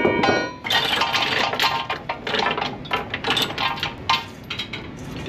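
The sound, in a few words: metal chains handled to secure a truck load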